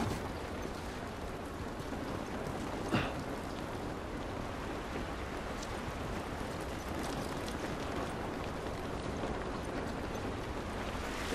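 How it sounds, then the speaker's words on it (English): Steady rain falls in The Last of Us Remastered, a dense, constant hiss of drops with a low rumble beneath and one brief sharper splash partway through. "This rain ain't gonna do us any good."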